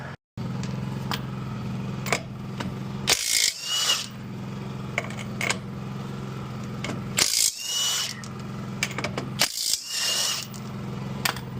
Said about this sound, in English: Time to get those wheels off.